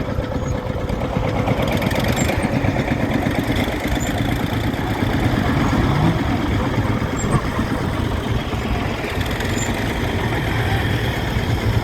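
A vintage grey Ferguson tractor engine runs steadily at a rally, a continuous low mechanical idle that holds even and fairly close for the whole stretch, with no voices over it.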